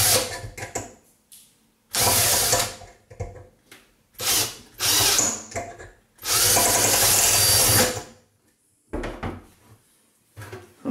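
A drill bores a hole near the edge of a collectible soda can in bursts of loud, close whirring, several seconds long and separated by quiet pauses.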